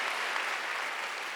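Church congregation clapping at a Wednesday worship service, a soft, even wash of applause from many hands, steady and somewhat distant for a short moment.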